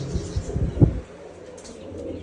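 Pigeons coo in a few low, soft bursts close by, followed by quieter background noise.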